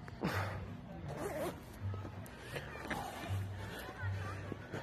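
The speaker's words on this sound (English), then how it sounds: "Let me zip this up." Jacket zipper being zipped up, several quick rasping pulls in a row, close and fairly clear over background crowd chatter and nearby voices.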